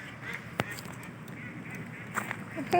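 Scattered honking quacks from white ducks close by at a town pond, a few sharp calls over soft outdoor background noise.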